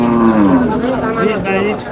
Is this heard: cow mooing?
yes